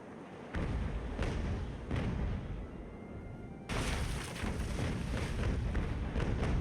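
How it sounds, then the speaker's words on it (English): Heavy cannon volley from sailing warships in a naval battle in Ultimate Admiral: Age of Sail: a dense run of deep booms and rumbling blasts, pausing briefly before another loud, crowded salvo rolls in. "Another heavy volley, this time on this side."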